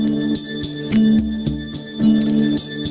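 A bell-like tone representing magnesium chimes in a few clear, ringing strikes with bright overtones, close and alone without speech.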